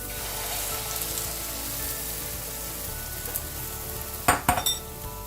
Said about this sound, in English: The mushrooms are beginning to cook, and I'm going to add my beaten eggs with cilantro, salt and pepper.